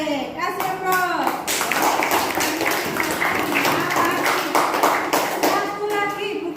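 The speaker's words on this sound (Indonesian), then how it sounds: "Kasih aplaus." A classroom bursts into sustained clapping after a brief voice at the start, the applause dense and close for several seconds.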